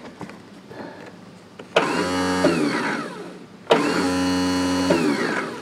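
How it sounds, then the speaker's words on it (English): The starter of a Cub Cadet lawn tractor whirs in two long bursts without the engine catching, loud and close with a sharp onset each time and quiet gaps between. "All right, the starter's not engaged."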